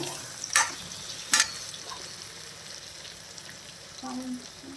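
Tomatoes with chili powder cook in a pan with a soft, steady background sizzle, punctuated early by two sharp utensil clinks and a faint scrape near the end.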